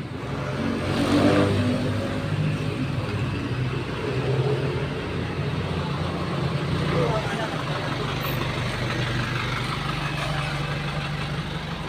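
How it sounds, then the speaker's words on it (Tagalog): Cars and trucks roll past close by on a road, a steady engine rumble with a swell of revving, while people talk nearby. "Dinadaan na sasakyan, oh."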